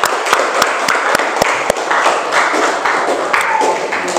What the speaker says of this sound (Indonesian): Kita beri tepuk tangan untuk Pangeran Diponegoro kelompoknya